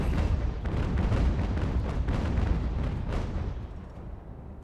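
Ship cannon fire in a naval battle game set in the American Revolution: a dense, rumbling barrage of heavy booms that merge into a continuous roar, loud and close before slowly fading.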